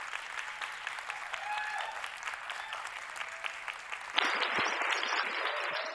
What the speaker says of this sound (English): And I thought I had gotten some nice applause.